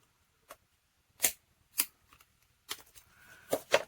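Scissors snipping card or paper while trimming a small ephemera holder for a craft project: a few sharp, separate snips spaced irregularly, close and fairly quiet, with no talking.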